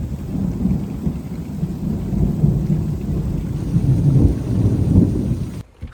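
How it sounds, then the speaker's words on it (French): Heavy rain pours steadily during a thunderstorm at a campsite with a tent on an African road trip, with deep rumbling thunder rolling underneath, loud and continuous until it cuts off abruptly at the end. "la pluie est arrivée"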